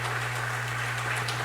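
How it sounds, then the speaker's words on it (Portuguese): A church congregation claps for Jesus, a dense, even wash of applause lasting a moment over a low steady hum. "Aplauda ao Senhor Jesus."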